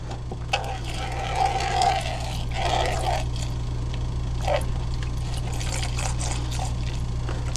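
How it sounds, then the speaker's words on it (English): Water poured and trickling into hydroxyethyl cellulose (HEC) powder, a natural polymer gum, for a clear serum; soft liquid dribbles and splashes come close up over a steady low electrical hum, with no talk. "So you add your water to it."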